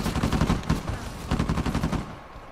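Rapid automatic gunfire from an Uncharted 4 multiplayer match, sustained bursts of loud, close shots in quick rhythmic succession with brief pauses, continuing to the end.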